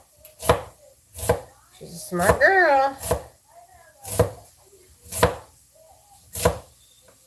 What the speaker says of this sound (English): when I'm chopping it